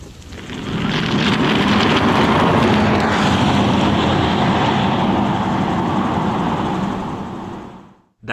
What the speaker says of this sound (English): That was the sound of a Tesla Model S, equipped with an electric engine.